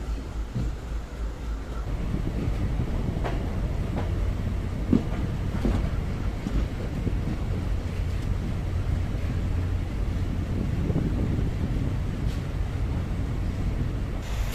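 A train runs on the non-electrified Madurai–Theni line near Usilampatti, heard from inside a coach with a steady loud rumble, rattling and wind noise throughout, with no talking.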